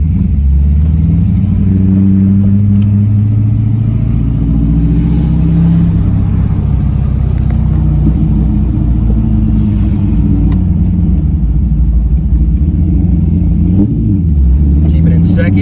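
A Chevrolet Corvette C5 engine revs in second gear, a loud, close, smooth rumble that swells and eases in long waves over about fifteen seconds.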